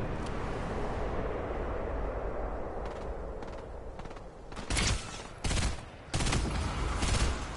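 Gunfire in a video game shootout: a roaring, dense barrage builds up, then several loud, sharp bursts break through close by near the end.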